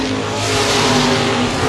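Modified race cars roar around the Baer Field Speedway oval during the Gold Cup 50, a loud, continuous blend of engines at full throttle holding steady with no talk over it.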